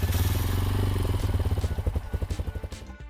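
Old rally dirt bike engine, such as a 2000 Honda XR650R, firing up and running with a loud, close, pulsing thump that loosens into an uneven chugging idle.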